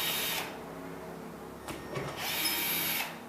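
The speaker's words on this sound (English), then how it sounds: "Like I said, pull the old screws out." A power drill whirs in short bursts as old screws are backed out of a water-damaged drywall ceiling in a garage, with near, moderately loud spins separated by pauses.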